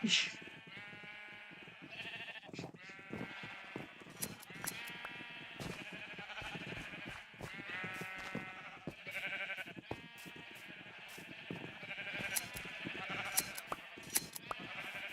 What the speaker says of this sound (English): Keep shearing the green sheep.